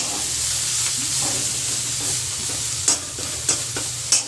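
Corn kernels stirred with red chili powder in a pan on low heat: a steady sizzle and hiss throughout, with a few sharp scrapes of the spoon near the end.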